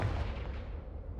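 Confringo blasting curse from a Harry Potter video game: a short, dense explosive burst with a rumbling low end that holds steady and then fades slightly, with no talk.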